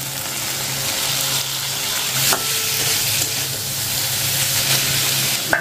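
Bitter gourd fries in a pan of hot oil, giving a steady, close sizzle with a brief spatter and a couple of light clinks, and no voices over it.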